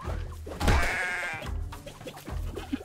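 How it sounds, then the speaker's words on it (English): Sheep bleating in the video game Bang-On Balls: Chronicles, several wavering bleats, one loud and close, then fainter repeats over game sounds. "Yo, you can kill the sheep, dude."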